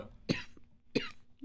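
Two hard, separate coughs after a puff from a pear gelato flavoured vape, close and loud with a short quiet gap between them.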